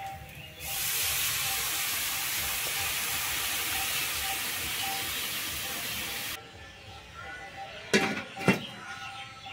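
Water poured into a hot pan of fried dalia and vegetables sets off a loud, steady hiss and sizzle lasting several seconds. It then cuts off abruptly, leaving quiet kitchen sounds and a couple of short clatters.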